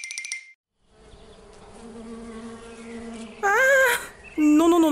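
Bees buzzing in an animated explainer about how honey is made: a steady, low, droning hum runs for several seconds, then a high, wavering voice whimpers loudly near the end.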